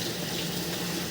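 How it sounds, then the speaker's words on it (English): Water running steadily from a household tap through old piping, a smooth continuous rushing hiss at low level with no breaks. "that's why we're running some water."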